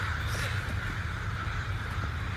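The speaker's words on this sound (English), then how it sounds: "here I am amongst the largest murder of crows on Earth" A large flock of crows caws continuously outdoors, many overlapping harsh calls forming a dense, steady chorus at moderate distance.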